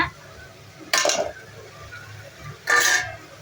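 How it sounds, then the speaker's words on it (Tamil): Spice powder is stirred into hot oil in a pan for an intestine gravy. Two distinct metallic scraping clinks from a spoon against the pan stand out over a quiet background. "பொடியை வந்து எண்ணெயில் ஒரு பெரட்டு பெரட்டிடுங்க"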